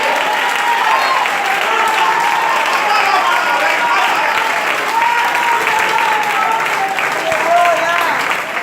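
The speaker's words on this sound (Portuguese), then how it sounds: "Deu uma salva de palmas." A church congregation applauds together at a Pentecostal-style sermon, a dense, loud and sustained round of clapping that continues steadily throughout with little change in intensity.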